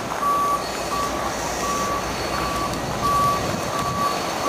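Reversing beeps from cement trucks sound outdoors as steady, evenly spaced electronic pulses over a loud engine rumble, with no voices.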